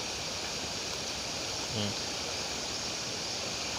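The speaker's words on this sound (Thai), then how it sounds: "ข้างๆนี้ก็จะมีลำธารครับ" A stream flows beside a campsite near the Bang Phra reservoir in Chonburi, Thailand, as a soft, even rushing wash with no breaks. A brief faint voice surfaces once partway through.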